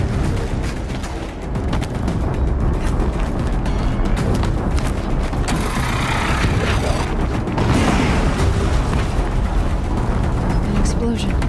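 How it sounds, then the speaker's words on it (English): Explosion in the Horizon Zero Dawn video game, a dense rumbling boom sustained through a busy game soundtrack with loud battle noise and voices throughout. "An explosion."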